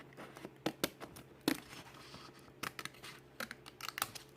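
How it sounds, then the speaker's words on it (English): Scissors snipping around a Halloween pumpkin transfer sheet, a sparse series of sharp close clicks and snips with irregular pauses, soft paper rustle between cuts. "what I will need to do is cut out around the pumpkin"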